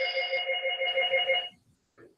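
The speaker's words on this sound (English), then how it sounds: "And there's the phone." A telephone rings in a room during a podcast recording, a steady, tonal electronic ring lasting about a second and a half, then a brief second burst after a short gap, with no talking.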